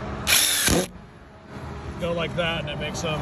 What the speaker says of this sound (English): Customer requested to screw this fence in, and I'm just using my regular drill.